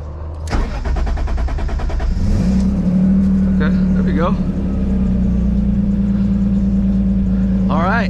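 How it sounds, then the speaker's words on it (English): A turbocharged BMW E46 M3 cranks after a brief quiet, its starter churning rapidly before the engine settles into a loud, rough idle, with faint whirs and squeaks over the running motor. "Car's not even starting anymore."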